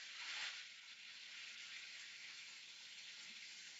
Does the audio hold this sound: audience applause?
no